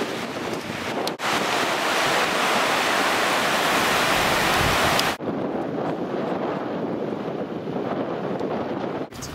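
Atlantic Ocean surf breaking on Essaouira beach, a loud continuous wash of waves mixed with heavy wind buffeting the microphone, with no voices.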